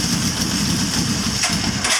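A 1983 Honda CB1000 C Custom motorcycle engine runs roughly with an uneven throb, then starts to falter and cut out at the very end of a brief two-second stretch.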